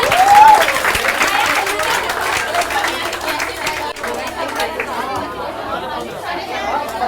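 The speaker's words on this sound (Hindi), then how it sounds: "तालियां बजाते रहिए।" Audience applause at a school coaching-class farewell celebration, a steady wash of clapping mixed with crowd chatter, loud at first and easing slightly, with a voice talking over it.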